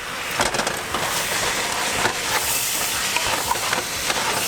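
Somali rice is stirred in a pot: continuous loud scraping and grainy shuffling of a spoon through the rice, with a dense, even texture throughout.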